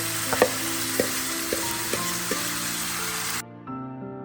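Half a kilo of roughly chopped tomatoes with red chillies sizzles in a pan while a spoon knocks and scrapes several times, and the sizzle cuts off abruptly near the end.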